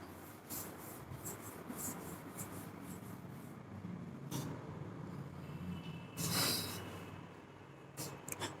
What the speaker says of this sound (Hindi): अब इसको रब कर देते हैं